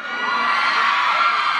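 A large crowd at a Thai company staff party concert screams and cheers in a sustained, high-pitched roar that stays loud throughout.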